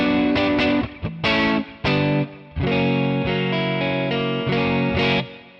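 Electric guitar through a Two Rock OD100 tone model in Tonex: a run of strummed chords and held notes, loud and close, with brief pauses between stabs and a long sustained chord near the end, no voices.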